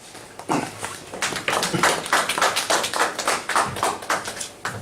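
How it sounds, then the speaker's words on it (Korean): An audience claps to welcome a professor onto the stage at a lecture, with a burst of distinct nearby hand claps that starts sparse and builds into a choppy, rhythmic round. "우리 김태경 교수를 모실까 뜨거운 박수로 환영해 주시기 바랍니다"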